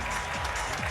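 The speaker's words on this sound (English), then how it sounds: "Now you got the crowd back into it." Stadium crowd roaring and applauding at a 2003 NFL game, Raiders at Titans: a dense, steady wash of cheering with no break.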